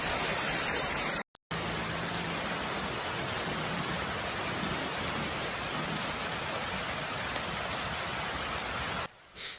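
Heavy rain pours down during flooding in southwest Germany around Frankfurt and Nuremberg: a dense, steady, loud downpour hisses without letup, broken only by a brief dropout early on and fading slightly at the very end.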